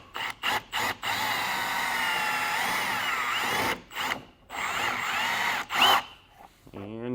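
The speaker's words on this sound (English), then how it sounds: "the way you get them out is just take a drill bit, a little bit bigger than the hole in the rivet" A close power drill whines steadily at high pitch, briefly stopping and starting in short bursts, with its tone wavering as the bit bites into a metal rivet, drilling it out.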